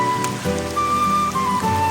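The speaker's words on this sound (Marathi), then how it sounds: "एकदम हेवी रेनफॉल चालू आहे इकडे." Heavy rain falls steadily in a forested village during monsoon rice planting, a constant, dense wash of sound with no one speaking.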